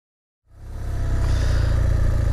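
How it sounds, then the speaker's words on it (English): Out of silence, a car on a road on the Isle of Skye fades in as it approaches, its engine hum swelling within half a second into a steady, low, fairly close drone with no voices. "there we are, another car coming"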